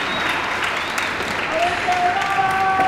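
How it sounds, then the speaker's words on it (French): An audience applauding at a professional padel tournament match, a steady wash of clapping that holds for the whole stretch, with a voice talking over it. "Et là, les gens, je sais pourquoi ils applaudissent."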